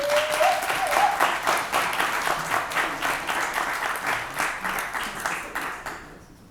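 A lecture audience breaks into steady, sustained applause welcoming a speaker, the clapping even and full before tapering off at the end.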